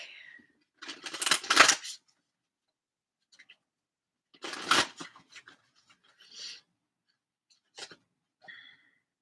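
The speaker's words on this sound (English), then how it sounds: "let me get some cards from the Voice of the Souls Oracle, a new deck." A new Voice of the Souls Oracle deck being handled and shuffled, giving a few soft papery riffles and rubs separated by quiet pauses, close and fairly faint, with no talking.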